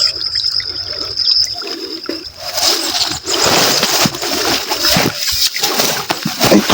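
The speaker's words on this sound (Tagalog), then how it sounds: "Ito naman po ay tubig." Water splashes and sprays from a split, broken garden hose outdoors, a steady loud gushing with irregular spatter bursts throughout.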